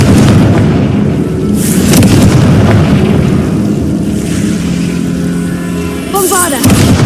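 Booming, crackling spell blasts from the Confringo fire spell in Hogwarts Legacy, loud against a dense game background with several bursts, a whooshing impact near the end.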